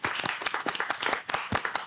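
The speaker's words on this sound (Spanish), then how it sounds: "Muy bien, un aplauso" A studio audience on a celebrity cooking competition breaks into lively applause after a countdown ends, a close, loud burst of rapid individual claps that stays strong for the whole stretch.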